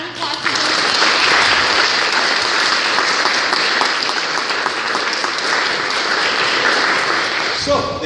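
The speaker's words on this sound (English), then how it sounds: "could we please start with a round of applause for" A large audience applauds: dense, sustained clapping at steady loudness for several seconds before it tapers off at the end.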